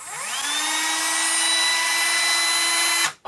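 A Dremel 8220 12-volt cordless rotary tool spins up with a rising whine and holds a loud, steady high-pitched drone for about three seconds before switching off.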